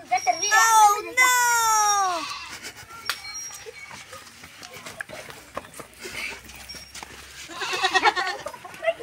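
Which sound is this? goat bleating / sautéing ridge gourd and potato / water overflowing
goat bleating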